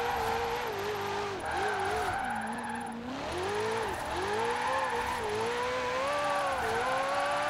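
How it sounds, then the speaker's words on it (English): A Maserati drift build in Forza Horizon 4 revs hard through rising and falling engine notes while its tires squeal and skid in long slides, loud and close with no talking. "We found a nice, decent car for sliding around with."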